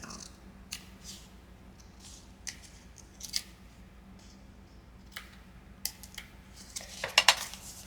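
Scissors trim lace glued onto a junk journal envelope, giving soft, sparse snips and small clicks at close range against a quiet background.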